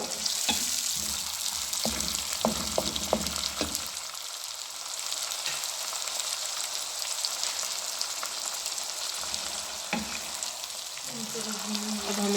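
Tomatoes and green chillies sizzle in a pan, a continuous close frying hiss with a few utensil knocks and stirring scrapes early on, then mostly steady sizzle alone.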